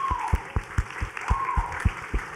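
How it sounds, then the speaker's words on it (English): Scattered, sparse clapping from a small group, irregular claps at moderate volume with a faint background hum. "A big round of applause for you guys."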